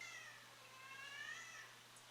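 A cat in a home with a reef aquarium meows in a drawn-out, wavering call lasting about two seconds, moderately faint over a steady low hum, with no talk.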